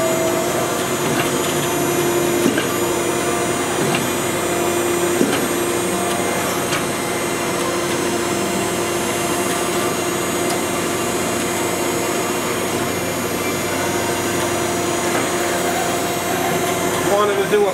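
A 20 by 40 inch Okamoto high-precision surface grinder runs with its table moving, giving off a steady, loud mechanical hum and whine with faint clicks, while a person talks over it.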